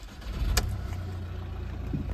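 A Mercedes GLA 180 CDI diesel with about 185,600 km turns over with a sharp burst and settles into a steady, close low rumble with no talking.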